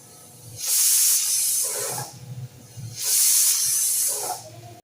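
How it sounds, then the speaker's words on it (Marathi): Two long, loud hissing bursts from a pressure cooker whistle on a gas stove while cooking mutton, each lasting over a second, with a short pause between them. "आता गॅसवरती आपण आठ ते दहा शिट्ट्या करून घेऊ"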